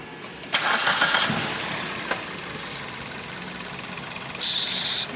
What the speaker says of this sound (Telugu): ఇంజిన్ అనేది స్టార్టింగ్లో ఉంది